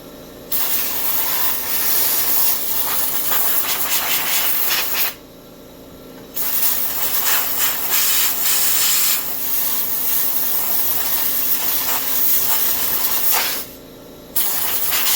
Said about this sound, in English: I got my compressor running in the background